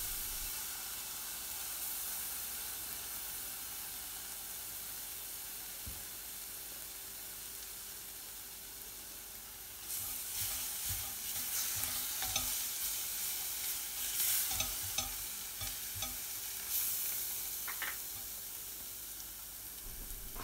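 Tomato paste and base gravy sizzle in a pan for a British Indian restaurant-style chana saag masala, a steady hiss that swells louder midway as stirring adds scraping clatter, with no talk.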